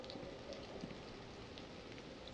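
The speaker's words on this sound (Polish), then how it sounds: "Znowu słyszę coś innego, dziwnego. To może deszcz, bo znowu." Steady rain falls in the horror video game White Day, set in a school at night, a soft continuous patter with scattered drop ticks at an even level throughout.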